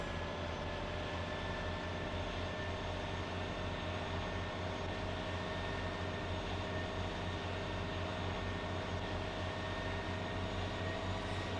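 A sewage suction truck engine from the video game My Summer Car drones steadily with the hand throttle raised, a constant low rumble with a faint whine above it.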